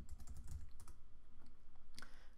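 Keys on a computer keyboard are struck quickly and quietly in short clusters, a shortcut-style run of close, crisp clicks followed by a softer steady pattern.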